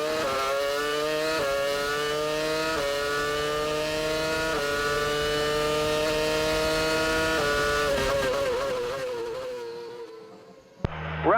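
A 2006 Formula One car engine screams steadily at 19,000 RPM at the Canadian Grand Prix in Montreal, pitch stepping up with gear changes, then drops away sharply near the end.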